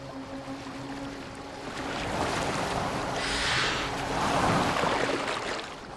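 A boat moving across the water in Assassin's Creed Valhalla, with a steady wash of water and wind swelling and fading, a rushing splash around the middle, and low tonal game ambience underneath.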